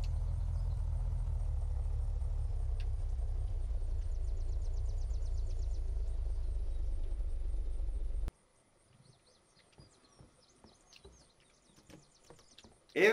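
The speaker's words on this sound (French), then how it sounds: "on va garer notre voiture pour voir si ça marche bien" A car is driven into a garage in the survival game Unturned, its engine a steady low rumble for about eight seconds before it cuts out, leaving faint scattered ambient clicks and chirps.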